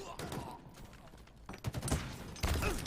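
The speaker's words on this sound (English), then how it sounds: "The nades! Oh my God, they just do not stop." Grenades explode one after another in a Halo Infinite competitive match, several booming blasts and crackling gunfire bursts building toward the end, with faint voices mixed underneath.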